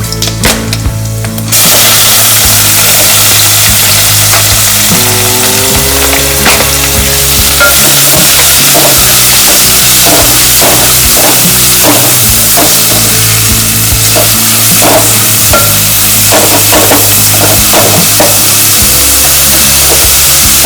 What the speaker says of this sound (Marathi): आता कांदा टाकते